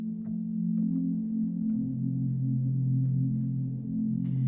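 The echo spire texture effect from the Sol stellar effects engine holds a sustained, droning low tone with a faint high ringing line above it. The tone shifts pitch slightly partway through.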